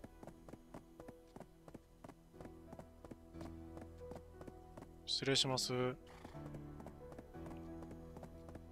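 Donkey hooves clip-clop steadily in Black Desert as the animal is led around a large farm, a regular rhythm of light taps over game music, with a brief louder burst midway and someone speaking a few words.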